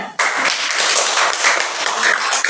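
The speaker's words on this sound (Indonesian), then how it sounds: "Oke, tepuk tangan." A primary school class claps together in a classroom, a steady, dense burst of many small hands that begins abruptly and continues for a couple of seconds, fairly close.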